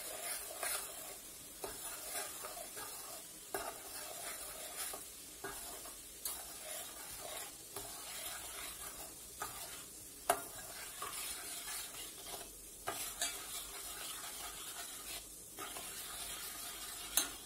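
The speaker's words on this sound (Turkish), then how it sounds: "Şimdi bunları erimesi için karıştırıyorum" A spoon stirs a glass of vinegar in a burnt pot, off the heat, to dissolve the residue; soft, quiet, repeated scraping strokes sound against the metal at an irregular rhythm, with a faint hiss underneath and no voices.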